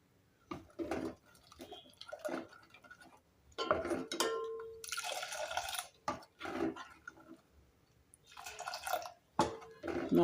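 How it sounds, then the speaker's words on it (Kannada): A pot of sprouted finger millet (ragi) porridge boils on the stove, giving irregular close bubbling pops and plops with intermittent soft hissing surges. "ಈಗ ಇದು ಕುದೀತಾ ಇದೆ."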